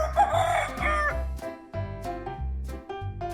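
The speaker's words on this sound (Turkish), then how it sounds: "İlk hayvanımız horoz." A rooster crows loudly over a bouncy musical backing, the call rising and breaking near the start, with rhythmic bass notes continuing throughout.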